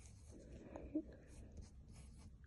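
Pencil writing an addition exercise in a children's workbook, soft steady scratching strokes close by with a couple of brief taps, quiet throughout.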